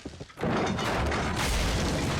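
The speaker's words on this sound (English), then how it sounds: "Bro, he's just smashing that door." A giant smashes a door in a battle scene from Game of Thrones: a dull boom, then a sustained loud crashing rumble lasting nearly two seconds.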